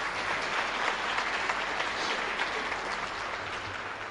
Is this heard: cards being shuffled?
no